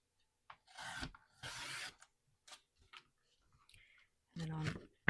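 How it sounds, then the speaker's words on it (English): Paper being trimmed for a handmade junk journal, several short scraping swipes separated by brief pauses and small clicks, close up, no talking. "Trim the bottom."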